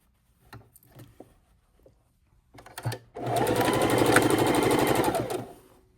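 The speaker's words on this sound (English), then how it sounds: "And we're going to sew this together." A sewing machine stitches together the fabric layers of a table runner, starting after several soft handling taps and clicks, then running in one steady, moderately loud burst of rapid needle chatter for about three seconds before slowing to a stop.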